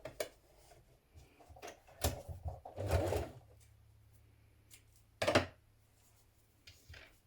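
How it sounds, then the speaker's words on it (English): A sewing machine stitches down the middle of a folded fabric strip for children's dungarees, in a few short, quiet bursts and single clacks separated by near silence, heard close up. "And I'm going to stitch it down the middle."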